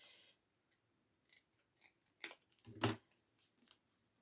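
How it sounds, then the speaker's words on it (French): Scissors snip through paper for a handmade Christmas advent card, a few quiet, irregular cuts with one sharper crisp snip near the end, close and alone in a hushed room. "je vais essayer de le découper comme ça, droit."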